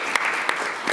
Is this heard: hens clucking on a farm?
no